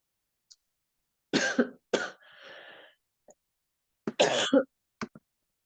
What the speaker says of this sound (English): I'm so sorry for my coughing fit just then